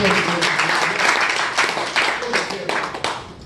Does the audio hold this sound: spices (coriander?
no